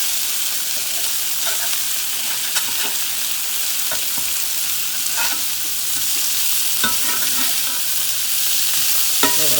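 Burger patties fry in a hot pan with a loud, continuous sizzle, crackling and spitting close by, with occasional sharper pops and light clinks and no speech.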